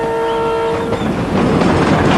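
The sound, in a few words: train slowly starting to move on railway track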